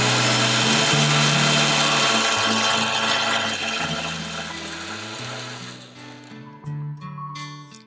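Kitchen mixer blending a white pumpkin mocktail with added coconut milk, a loud steady whirring motor that winds down and stops, then a brief second pulse.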